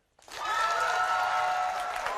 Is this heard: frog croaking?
no